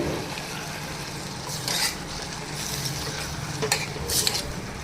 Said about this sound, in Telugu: కోసి పెట్టుకున్న టమాటా వేసేద్దాం.